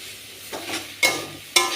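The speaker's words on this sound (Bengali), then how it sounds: "রসুন এবং লঙ্কার ফোড়ন, এভাবে মিশিয়ে নেব।" Garlic and chilli tempering stirred into greens in a hot pan, a soft steady sizzle broken by three scraping spatula strokes, close and clear, with no talk.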